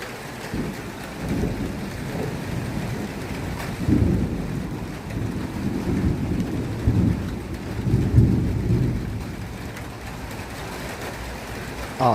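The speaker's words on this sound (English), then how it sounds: "the rain is definitely coming down here." Heavy rain pours steadily during a winter storm, with low thunder rumbling and swelling several times across the span, distant and deep beneath the hiss of falling rain.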